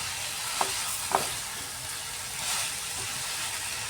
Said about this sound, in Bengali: খুব সুন্দরভাবে কষা হয়ে গেছে এই যে মশলাগুলো একদম শুকনো হয়ে গেছে